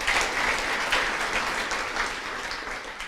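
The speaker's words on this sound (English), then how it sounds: "Can we give them a round of applause, please?" Steady audience applause at an academic awards event, dense and sustained from start to finish without a break in the clapping.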